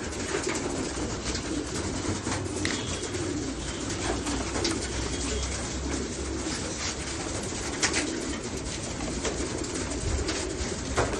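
Steady cooing from young racing pigeons fills the clip, a soft continuous murmur from several birds close by, with occasional wing flutters and no voices.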